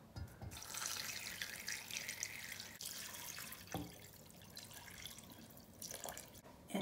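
Water runs and splashes steadily into a cooking pot for chicken and dumplings, a continuous hissing pour with a brief pause midway, close by and fairly quiet.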